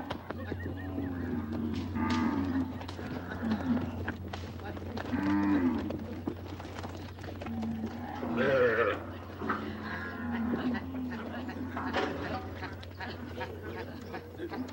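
Cattle on a ranch moo repeatedly, several long, deep lowing calls rising and falling at close to moderate distance, with a steady low hum underneath and a narrator's voice talking over parts of it.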